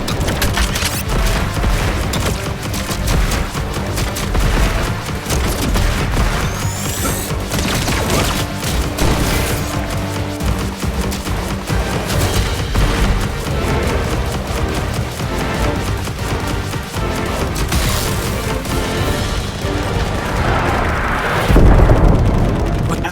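Constant barrage of gunfire and explosions in the video game Contra Operation Galuga, loud and dense throughout with layered booms, rapid shots and game music, barely pausing.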